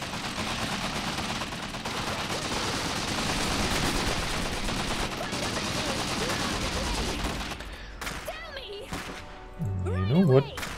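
Machine gun fire in the Iron Harvest video game forms a continuous, rapid rattle of bursts for most of the stretch, fading near the end as voices and other game sounds take over.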